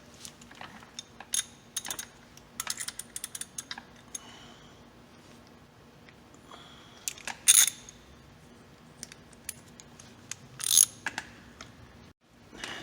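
Sharp ratcheting clicks of a wrench backing off E12 bolts on an engine crank guard, close and crisp, in scattered runs with two louder bursts and quiet gaps between.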